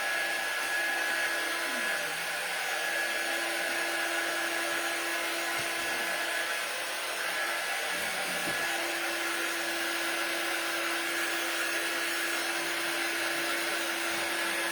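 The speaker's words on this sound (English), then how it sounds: "Trying to get it good and dry, because if I try to put that last coat on there without it dry, it's going to rip off the last one" A blower, likely a hair dryer, runs continuously to dry a wet coat on a Dollar Tree frame, holding a steady, close, even whir with a faint shift partway through.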